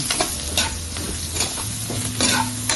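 A spoon stirs butter chicken mixture in a sizzling pan after salt is added, giving repeated scraping strokes over a steady frying hiss.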